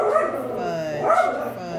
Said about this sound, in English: So please excuse his barking.